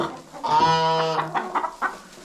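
A hen gives a drawn-out, rising cackle up close, followed by a few short clucks; no one speaks.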